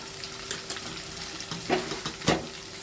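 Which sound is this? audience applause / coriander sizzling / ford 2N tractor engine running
coriander sizzling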